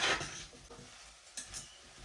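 Onion, ginger and garlic sauté in a pan, a soft steady sizzle with a brief stirring scrape at the start and a couple of light clinks later, close and fairly quiet.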